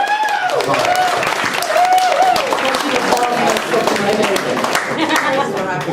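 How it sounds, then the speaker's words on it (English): An audience at a university creative writing reading applauds the readers, with clapping and some laughter mixed under excited voices and cheers, fairly loud throughout. "I'd just like everybody to give a round of applause to everybody who's reading that"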